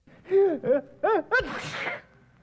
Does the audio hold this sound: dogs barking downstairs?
no